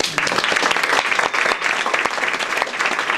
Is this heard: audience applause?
yes